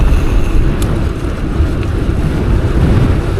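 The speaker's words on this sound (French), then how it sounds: "Ah, ça souffle fort, là." Strong wind on a small countryside road in Savoie roars steadily against the microphone, a dense low rumble with gusty buffeting throughout and no voices.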